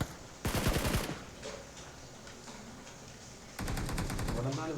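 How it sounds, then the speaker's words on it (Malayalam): Automatic weapons fire in a PUBG match, with a loud burst of rapid gunshots, a quieter stretch of scattered distant shots, then another loud rapid burst near the end. "അവിടെ നിന്നാണ് വെടി വരുന്നതെന്നില്ല"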